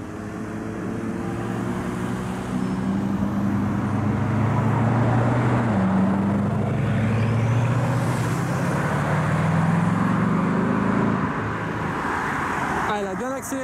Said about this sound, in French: On va voir si elle accélère un petit peu.